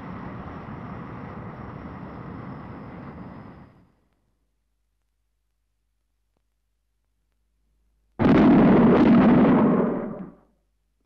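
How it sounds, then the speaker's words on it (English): Shock-wave bangs from an aircraft in transonic flight, heard as two loud, separate rumbling blasts with a long silent gap between them, each decaying over a few seconds. "Those bangs were shock waves from an aircraft in transonic flight."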